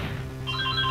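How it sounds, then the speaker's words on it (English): A phone rings in the Phoenix Wright Ace Attorney video game, a brief electronic trill with bright warbling tones, loud and alone. "And why is the phone ringing again?"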